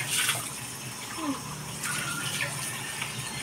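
Dishes are washed at a sink under running water, a steady splashing wash that stays fairly quiet and continuous while a person talks over it.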